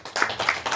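An audience at a home program gathering in Auckland gives a quick burst of a few close hand claps, brief and uneven.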